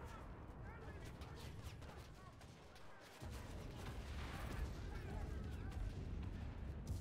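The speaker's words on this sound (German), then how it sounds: "Die schießen auf mich." Gunfire in the video game Enlisted crackles and booms in rapid bursts across a desert battlefield, with shots at varying distances and heavier rumbling fire joining partway through; a voice speaks faintly underneath.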